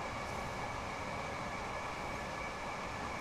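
An electric multiple unit train passing in the Train Sim World game, a steady loud rumble and rush of rail noise that carries on evenly throughout.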